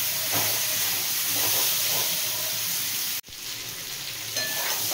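Mango pieces fried with turmeric powder in a pan for mango pickle, making a steady close sizzle and hiss with light stirring, briefly cut off once before it continues.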